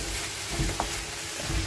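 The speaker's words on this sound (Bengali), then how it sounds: "আর এখানে এটা কষানো হচ্ছে মশলাটা।" Masala sautéing in a pan with yogurt and a little sugar, the base for a fish head dal: a steady low sizzle with soft stirring scrapes, close and moderately quiet, no voices.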